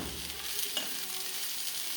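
Spice mixture being stirred in a frying pan after salt goes in, a soft continuous sizzle with scraping stir strokes, faint and close, no talk.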